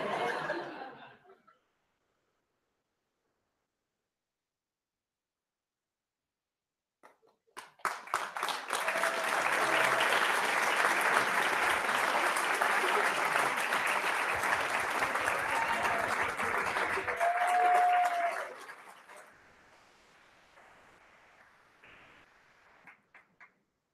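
An audience at a physical therapy white coat ceremony breaks into sustained applause mixed with some chuckling. The clapping runs steadily for about ten seconds after a brief spoken start and silence, then fades to quieter scattered claps.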